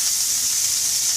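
Venison steak searing in a hot pan, a loud, even hiss of sizzling fat heard close up and without a break for just over a second, with no voices.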